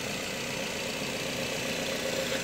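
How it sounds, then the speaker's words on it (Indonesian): A Nissan X-Trail T31's engine idling smoothly, a steady even hum close by with a faint low rumble and no obvious knocks or irregular sounds. "apakah ada suara-suara yang aneh yang keluar dari mesin ya"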